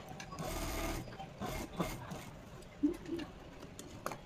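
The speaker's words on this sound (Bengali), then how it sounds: "এইখান থেকে একটা চাপ সেলাই দেবো, মানে এই কাপড়টা যাতে ভেতর দিয়ে না ঢুকে যায়" A sewing machine runs in short bursts while tack-stitching fabric on a Patiala pant belt, a soft mechanical whir close by with pauses between runs, and someone talks quietly over it.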